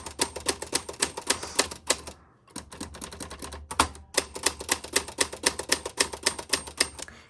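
Typing on a 1962 Olympia Splendid 33 ultra-portable manual typewriter: steady, crisp rapid key strikes in quick runs, with a short pause partway and a carriage-return clunk, close and alone.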